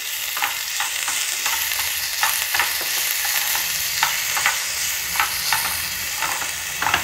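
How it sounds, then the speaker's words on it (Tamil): Onions and urad dal sauté in a pan for godhuma dosai, a steady bright sizzle broken by regular scraping stirs, close and loud with no talking. "சின்னதுலேயே வச்சு இதை கொஞ்சம் நல்லா வதக்கலாம்"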